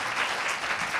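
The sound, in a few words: audience applause for the speakers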